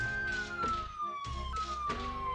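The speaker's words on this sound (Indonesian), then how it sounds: "Kebetulan, begitulah penampilan ambulans di negara ini." An ambulance siren in the Dominican Republic wails with a steady tone that slides slowly downward, interrupted by sharp rhythmic bursts, passing fairly close on a street.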